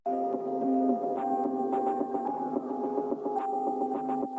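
A randomly generated effect from the Baby Audio Magic Dice free plugin, run on a music production track. It gives a steady, dense layered musical wash with sustained tones and faint rhythmic ticks, continuous and fairly loud throughout.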